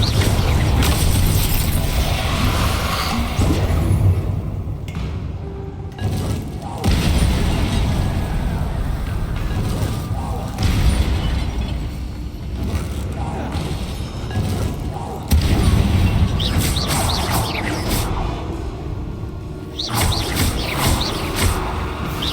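Spell explosions from Confringo and Incendio in the game Hogwarts Legacy, dense booming and crackling blasts layered over continuous combat noise, loud and sustained, with game voices shouting at times.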